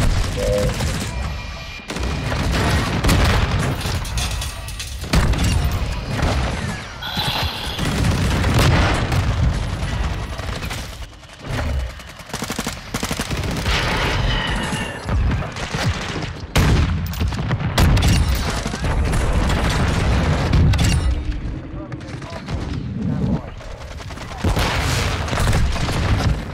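Shotgun fire from a Bryson 890 in the video game Call of Duty Modern Warfare 2, with loud, dense bursts of shots and booming blasts running almost nonstop amid other in-game gunfire and explosions.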